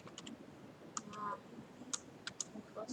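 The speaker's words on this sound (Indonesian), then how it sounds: "kalau sudah kita klik simpan" Mouse clicks while saving an exam form on a computer, several sharp isolated clicks, close and quiet, with short gaps between them.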